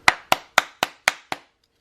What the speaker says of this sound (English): So I'm just going to tap it with my hammer that way.